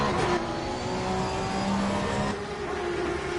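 Porsche Cup race cars at Donington Park, engines howling steadily at high revs. A loud, continuous roar that shifts pitch as the cars accelerate and change gear.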